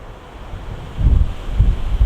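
Wind gusts across an open golf course, buffeting the microphone with low rumbling swells that grow stronger toward the end, with no voices.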